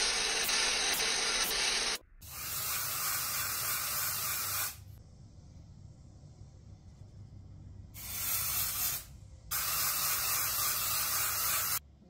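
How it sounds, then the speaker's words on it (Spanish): Bursts of dry shampoo aerosol from a Dollarcity can hiss loudly up close: one short spray, a longer one of about three seconds, then two more blasts near the end, with quieter shaking and rustling between them. "Lo vamos a agitar antes de usarlo."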